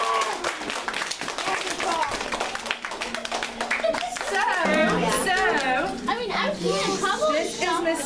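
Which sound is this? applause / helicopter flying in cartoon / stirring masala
applause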